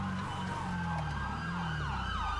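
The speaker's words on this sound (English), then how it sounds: "Oh, I'm hearing a lot of sirens." Several emergency vehicle sirens in a video game wail at once, rising and falling in overlapping cycles over a low engine drone, fairly close and continuous.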